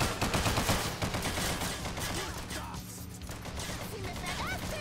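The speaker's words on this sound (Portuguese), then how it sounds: "Os caras tão dando tiro em mim" Gunfire from the crime video game Scarface: The World Is Yours, with dense bursts of shots and machine-gun rattle at the start, settling into a steady noisy barrage of combat sound.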